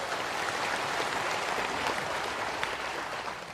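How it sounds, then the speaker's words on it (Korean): An audience at a rally and lecture for Vietnam War veterans claps in thanks, a dense, even wash of applause that stays steady and fairly loud for several seconds, with no voices over it. "감사의 박수 한번 보내주시기 바랍니다."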